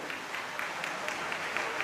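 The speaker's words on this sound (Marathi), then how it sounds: "एकदा जोरदार टाळ्या झाल्या पाहिजे त्या गोष्टीसाठी" Audience applause at a speech event in Kolhapur, a steady wash of clapping from a crowd, moderately loud and continuous.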